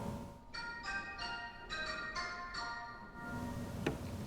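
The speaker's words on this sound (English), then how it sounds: "xylophone" A quick series of bright, ringing struck notes on the xylophone of a 1929 Wurlitzer theatre organ, several hits in a loose melodic run, fading into a softer tap.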